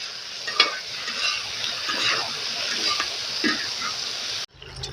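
Vegetables with tomato being stirred on a hot disco griddle for pork al pastor tacos, a steady broadband sizzle with scraping stir strokes throughout, close and continuous, cutting off abruptly near the end.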